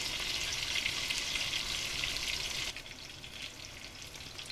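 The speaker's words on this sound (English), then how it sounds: "Let them gently sizzle on each side for at least 2 minutes" Close, steady sizzling of koi fish pieces shallow frying in hot oil in a pot, loud at first and then dropping to a quieter crackle partway through.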